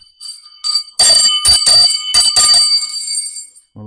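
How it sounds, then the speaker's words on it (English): An old school bell rings loudly and close in a few sharp metallic clangs, bright and resonant, tailing off with a lingering ring; no talk over it. "I must keep that handy. It's an old school bell."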